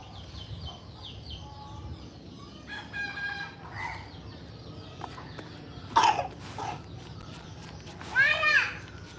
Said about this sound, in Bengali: ওই মুরগি মারামারি করতেছে আব্বু মুরগি মারামারি করতেছে